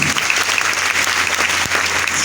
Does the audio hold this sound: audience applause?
yes